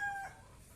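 A young chick cheeps briefly and faintly, a short high peep at the start of the moment, with a snake nearby in the setting.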